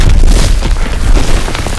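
A loud, booming explosion in the World War II video game Call of Duty WW2, a sustained heavy blast and rumble filling the whole moment without speech.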